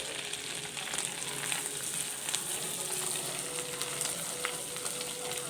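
Masala ingredients sautéing in a pan for paneer butter masala, a steady moderate sizzle with scattered crackles and light stirring, no talk.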